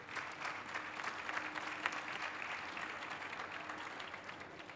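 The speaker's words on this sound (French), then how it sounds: "on peut les applaudir." An audience applauds a panel at a conference on the factory of the future, a steady wash of many hands clapping at moderate distance throughout, without speech.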